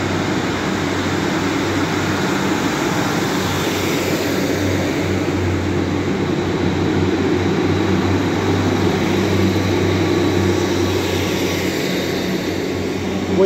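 Class 151 and 156 diesel multiple units idling at Manchester Victoria, a steady low rumbling engine drone with a constant hum, loud and continuous throughout with no talk.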